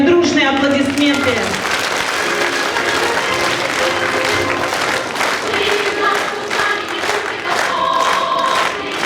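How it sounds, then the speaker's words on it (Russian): An audience at a Russian-language public ceremony honoring volunteers and senior counselors breaks into loud, sustained applause that fills the room, with a voice over a speaker system talking through it. "давайте подарим дружные аплодисменты"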